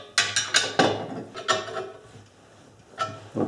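Metal bolts being tightened on an engine stand assembly with a wrench, giving a run of sharp ratcheting clicks in short bursts, close and moderately loud, then a quieter pause before a final burst.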